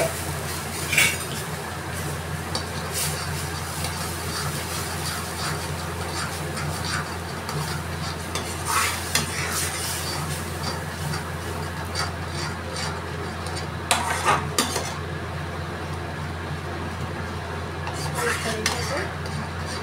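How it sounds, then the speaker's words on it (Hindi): Ground masala and Kashmiri red chili fry in a hot pan for a restaurant-style paneer dish, giving a steady close sizzle with scraping and clinking of a spoon against the pan through the whole stretch, without talk. "तो इसको मसाले को भून लेना है 4 से 5 मिनट तक।"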